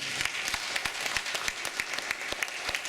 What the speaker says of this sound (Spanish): Vamos a darle un aplauso a la gente de la adoración.